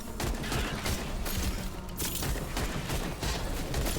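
Automatic rifle in the Wayfinder video game fires in sustained rapid bursts, a loud close rattle of shots with brief gaps between volleys.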